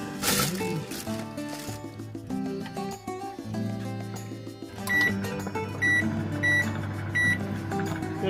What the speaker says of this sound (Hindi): और तो अभी हम इसको गर्म करते हैं माइक्रोवेव पे।